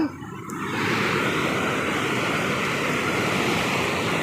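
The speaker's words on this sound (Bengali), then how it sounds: "কতটুক জায়গায় শুধু পানিটা এভাবে পাক খাচ্ছে" Water in a river swirls and churns in a continuous, loud, broad rush that fills the whole stretch, steady and close, with some wind noise on the microphone.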